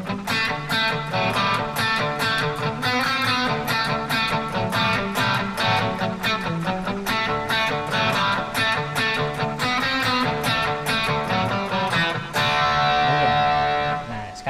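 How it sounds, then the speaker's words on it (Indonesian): Squier Affinity electric guitar with Seymour Duncan pickups through a crunch pedal, mildly overdriven chords strummed rapidly and continuously, gritty and loud throughout. "ini suara crunchnya nih."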